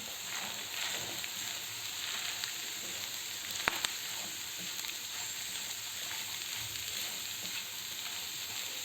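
Purslane and vegetables fry in a pan with salt and spices for a gözleme filling, a steady close sizzle with faint stirring scrapes and one brief sharp clack of the utensil, no talking.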